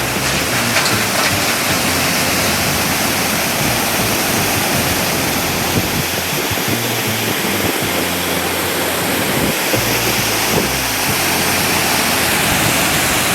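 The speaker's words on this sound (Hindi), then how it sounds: "पानी की आवाज़ सुनकर ही आप अंदाज़ा लगा सकते हो कि इस नदी का वेग कितना कम हुआ है" The Luni river pours over a causeway at Jasnagar, a steady, dense rushing roar of water that stays loud and unbroken throughout, with no voices.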